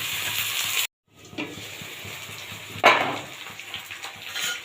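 Potatoes and onion greens fry in a pan with a continuous close sizzle and crackle, broken by a brief silent gap, then a sharper burst of spattering as the food is stirred.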